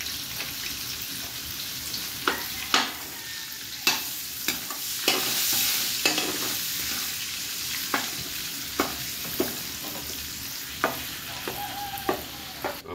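Butter sizzles in a large pot as sopas ingredients begin to sauté, with sharp spoon clanks and scrapes landing every second or two over a steady frying hiss.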